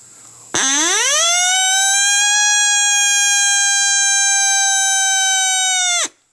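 A person imitates a coyote howl: one long, sustained, rising wail held for about five seconds, loud and close, then cut off sharply.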